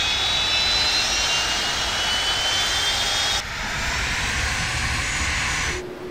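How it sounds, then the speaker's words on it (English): Right jet engine of a Boeing 767 spooling up in a Level-D flight simulator, a steady loud broadband roar with a high whine that shifts midway and drops slightly at the end, no talk. "Start right engine. Starting right."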